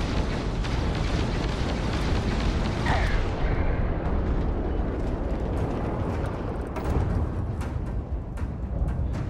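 A spaceship blowing up in Starfield space combat: loud, sustained rumbling explosions with bursts and booms, continuous and heavy throughout with sharper pops toward the end.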